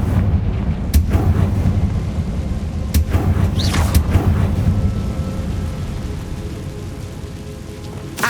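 Confringo explosion spell cast in the video game Hogwarts Legacy, sharp blasts near the 1, 3 and 4 second marks standing out over a steady low rumble, with no speech.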